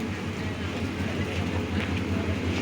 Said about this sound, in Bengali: অবশেষে আমাদের অপেক্ষায় শেষ করে ট্রেন এসে গেল। সেই লম্বা ট্রেন সামনের দিকে যাচ্ছে